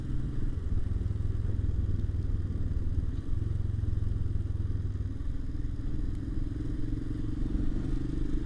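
Royal Enfield Himalayan 452 motorcycle rides along at a steady pace, a continuous low engine rumble with a faint clatter running under it throughout, with no voices.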